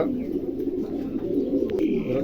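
Soft, low cooing of pigeons, a continuous throaty murmur close by, with a faint brief chirp near the end.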